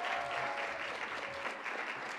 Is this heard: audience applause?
yes